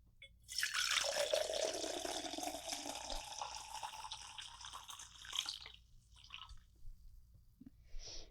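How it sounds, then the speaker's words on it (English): Coffee poured into a cup in a garden, a steady liquid stream rising in pitch as it fills for about five seconds, then stopping with a few faint drips and small clinks afterward. "Let's pour this coffee, right?"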